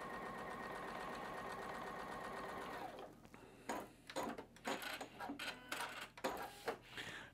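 Sewing machine stitching quilt fabric pieces slowly with light pressure: a steady motor whir for about three seconds, then a run of short, uneven stitching bursts and clatters, close and clear with no talk.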